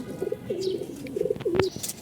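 Domestic fancy pigeon, a Baghi-type colored pigeon, cooing in a few drawn-out, throaty phrases close by, with brief pauses between calls and a little background noise.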